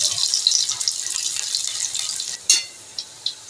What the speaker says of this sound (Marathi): आपण ठेचून घेतलेलं लसूण टाकूया.